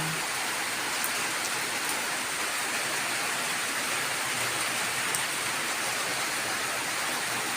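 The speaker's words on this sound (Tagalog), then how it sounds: "Ayan ang lakas ng ulan sa labas." Heavy rain pours down steadily in a dense, even hiss that holds constant throughout, with no voices.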